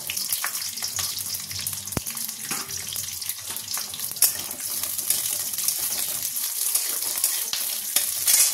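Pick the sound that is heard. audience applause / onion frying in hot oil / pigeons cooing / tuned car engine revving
onion frying in hot oil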